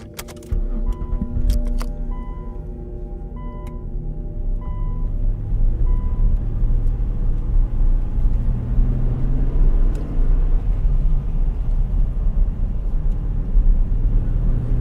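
A car drives along a road at night, its engine rumbling steadily and close, with broad road noise throughout and a few faint electronic chimes near the start, no voices.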